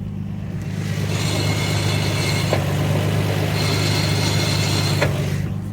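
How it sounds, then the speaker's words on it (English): A 1991 Nissan Skyline GT-R32 idles steadily with a low, even engine hum, heard from under the car, while a Nismo twin disc clutch engages with a whirring, rattly chatter that comes and goes in two stretches. "That's just the twin disc clutch engaging."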